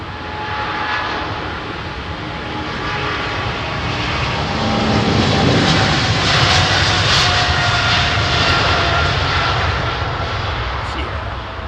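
Heavy jet airliner on runway 27R at Heathrow Airport, a loud continuous engine roar building to a peak midway and holding steady, with voices talking faintly over it.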